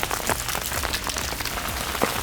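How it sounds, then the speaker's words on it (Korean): Rain pours steadily at a riverside fishing spot beneath a bridge during summer monsoon downpour, a dense continuous patter with scattered louder drops close by. "빗소리 비 잘 옵니다"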